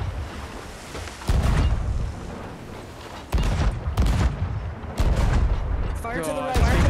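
Ship cannons firing in the pirate video game Sea of Thieves, several heavy booming blasts spaced a second or two apart over ocean ambience, with players talking in between.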